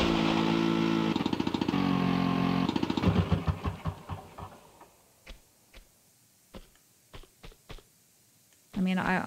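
Vehicle engine in Tomb Raider 2's Tibetan Foothills, a steady buzzing drone that breaks into sputtering pulses, then a series of separate knocks and clunks with gaps between, before the engine roars back at the end; talk partly overlaps.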